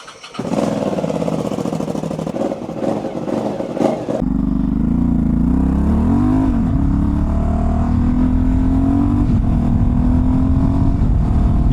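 Aprilia Dorsoduro 750 V-twin supermoto engine catches after a brief starter crank, then settles into a loud, close, sustained idle with a rising and falling rev.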